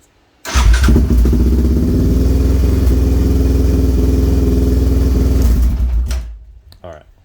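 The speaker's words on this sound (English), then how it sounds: "when you twist on the cable, it does not rev up the engine anymore" A motorcycle engine with a Cuervo +3mm throttle body starts and runs loud and close at a steady idle for about five seconds, then cuts off and falls quiet.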